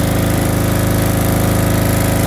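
A SENCI SC7500Q generator runs close by with a loud, steady engine drone and an even, pulsing throb. No other sounds are heard over it.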